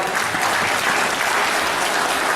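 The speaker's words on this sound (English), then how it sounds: "clap your hands up to the Lord" A church congregation claps their hands together during worship, producing a dense, steady wash of applause that runs loud and unbroken throughout.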